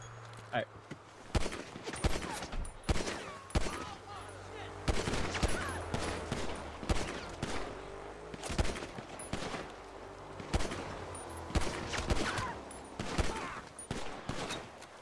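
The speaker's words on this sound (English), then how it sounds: "They're about to shoot." Rapid bursts of gunfire in a GTA roleplay shootout: repeated loud volleys and automatic fire crackle across the whole stretch, mixed with voices talking over the shots.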